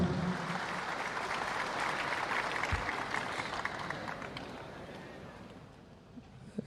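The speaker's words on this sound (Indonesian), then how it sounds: "Sambutan yang hangat dengan tepuk tangan yang paling meriah" A large hall audience at the PDI Perjuangan fourth national working meeting (Rakernas IV) gives warm, sustained applause, a dense roar of clapping that gradually tapers off toward the end.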